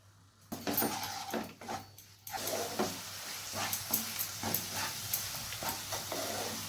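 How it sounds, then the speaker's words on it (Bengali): Spiced masala paste for chicken kosha sizzles in a pan with a steady hiss, broken by close, repeated scraping strokes of a spoon stirring it. "এরপর আমি মশলাটা ভালোভাবে কষিয়ে নেব।"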